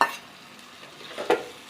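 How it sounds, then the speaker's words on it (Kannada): Boiled chicken drops into sizzling masala in a pan for homemade chicken sukka, giving a short burst of frying hiss and stirring scrapes with a second splash of sizzle near the end, fairly close. "ಇದಕ್ಕೆ ಈಗ ನಾವು ಬೇಯಿಸಿಕೊಂಡ ಚಿಕನನ್ನು ಹಾಕೋಣ."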